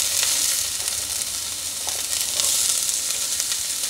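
White onion frying in a hot pan for red beans and rice, giving a steady, loud broadband sizzle that runs the whole time with slight crackling surges and no talk.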